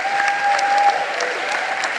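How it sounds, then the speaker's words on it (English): Steady applause from a panel discussion audience on Gaza war media coverage, dense clapping that holds at an even level for two seconds without talk. "A warm applause for all my panelists."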